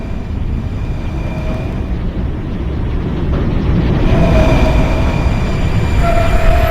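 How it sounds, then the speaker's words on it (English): A PST9 Q Express subway train rumbles steadily at Myrtle Avenue station, loud and close, with a dense low roar. The rumble builds slightly as the train moves and faint high squeals cut through. "This is a Westpotat bound Q Express train."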